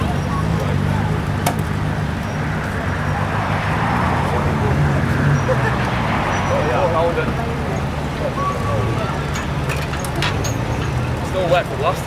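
Second World War US Army military vehicles driving at the Welland Steam Rally, a steady outdoor engine rumble with a low idling drone, under crowd murmur and a public-address voice.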